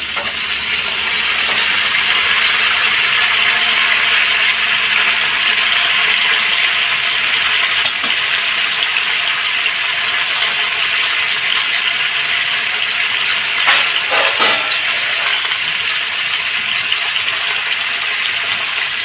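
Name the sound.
pumpkin and beans frying in pan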